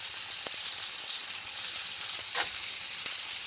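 A fluffy chocolate chip pecan pancake fries in a pan with a soft, continuous sizzle. Faint crackles and pops rise over it, and one brief hiss swells near the middle.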